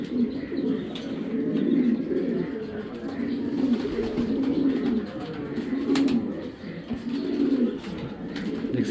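Caged foreign pigeons, including a Ludo Classic male, coo in a repeated rolling rhythm close by, with chirps mixed in and a voice audible at times.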